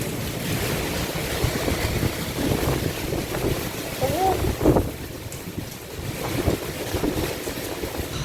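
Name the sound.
strong cold wind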